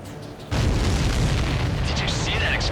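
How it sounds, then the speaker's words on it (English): Sudden loud booming explosion in the air-combat video game Ace Combat 7, a sharp onset followed by a sustained rumbling roar with a voice speaking over it. "Did you see that explosion? Looks like that's one of them down."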